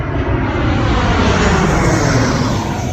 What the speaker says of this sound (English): that plane is probably about 100 feet above me